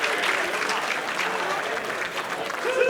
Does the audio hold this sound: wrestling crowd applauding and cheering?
yes